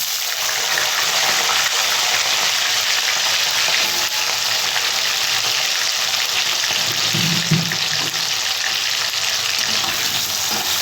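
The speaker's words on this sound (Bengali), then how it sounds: "পাঁচ ফোড়নটা দেওয়ার পরে বন্ধুরা আমি আলুগুলো দিয়ে ভেজে নেব" Potato pieces frying in hot oil seasoned with panch phoron, a loud, continuous sizzle that stays steady throughout, with a brief low stirring clatter near the end and no talking.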